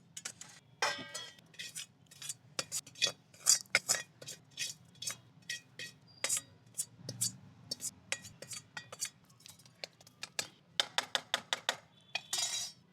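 A series of sharp, close taps and clinks from a roti container being tapped down to settle a gond and atta mixture, coming in irregular bursts of quick knocks with short pauses and no talk.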